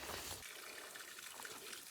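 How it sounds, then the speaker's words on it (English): Water trickles steadily at a small water source along the Pacific Crest Trail, a soft continuous running-water wash close by with no talk. "What a lovely water source."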